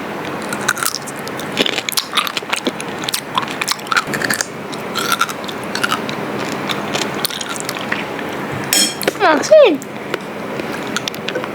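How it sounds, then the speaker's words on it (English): Crisp crunching bites into a pickle, repeated several times up close, with background voices and clatter throughout. "Yes, I love pickles, genuinely. Hear the crunch."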